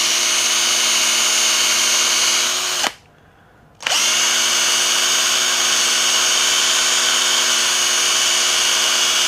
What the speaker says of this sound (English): Now you can do that in a Dremel if you want something high speed.